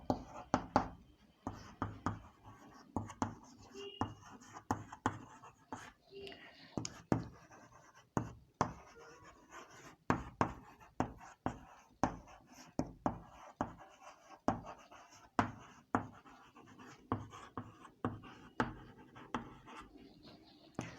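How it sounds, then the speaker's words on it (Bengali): Chalk or pen strokes on a board during a class 10 physics lesson on light reflection, a steady run of short scratchy taps and strokes heard up close at moderate level, with faint background voice now and then. "দেখো এখানে কি লিখলাম"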